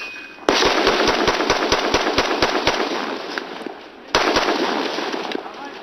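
Rapid bursts of soldiers' gunfire in a war film, a fast string of sharp cracks over a dense roar of noise, then a second loud burst after a brief lull, close and harsh.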